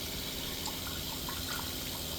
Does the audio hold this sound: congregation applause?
no